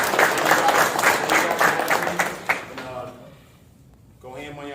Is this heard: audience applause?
yes